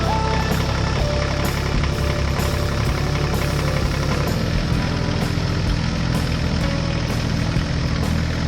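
Steady engine drone from a blue tractor in an animated farm scene, a small retro Swaraj tractor, running continuously at an even idle-like throb throughout, loud and close with no talk.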